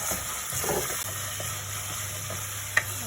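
Onion with ginger garlic paste and curry leaves frying in a pan over medium flame for a Sri Lankan fish curry, a steady hiss and sizzle with a low hum beneath and one sharp tap near the end.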